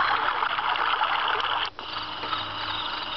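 A continuous hissing rush of recorded waterfall sound plays steadily from an alarm clock's small speaker, with a brief click and dip partway through.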